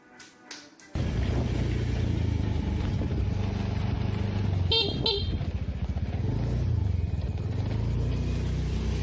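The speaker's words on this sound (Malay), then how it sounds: "Nah, itu suara motor ayah." A motorcycle pulls up close, its engine rumbling steadily and loud after a brief quiet start, with a sharp horn-like toot around the middle.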